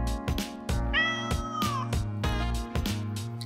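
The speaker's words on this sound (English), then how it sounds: "This is my cat, Canon." A pet cat meows repeatedly at close range, several loud drawn-out calls in a row, including one long wavering meow, with a steady hum underneath.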